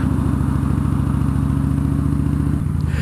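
Harley motorcycle engine rumbling loudly and steadily nearby, a deep throbbing drone that holds for a few seconds before easing slightly at the end.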